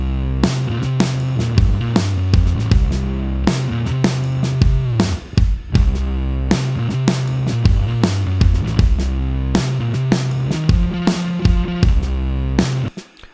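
A sampled Addictive Drums 2 kit pounds out a steady beat with kick and snare hits, joined by a super dirty bass guitar tracked through an amp that growls low, loud and constant, without any talk.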